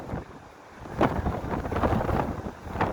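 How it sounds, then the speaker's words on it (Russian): Strong wind roars and buffets the microphone in heavy gusts over the sea near Arkhipo-Osipovka, with a rushing, sea-like wash beneath it and no voices. "Мощь стихии. Ветер сильнейший."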